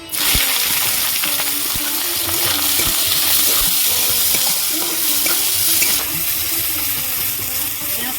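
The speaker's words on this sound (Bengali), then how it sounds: "এইভাবে আমি ভেজে নেব পেঁয়াজ" Chopped onions frying in hot oil with whole garam masala, bay leaves and dried red chillies, a loud continuous sizzle with repeated scraping and stirring knocks throughout.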